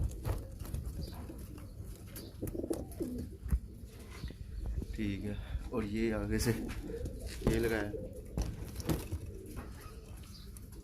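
Pigeons, including a female domed pigeon, coo repeatedly nearby, soft throaty rolling calls in short bursts, under someone speaking.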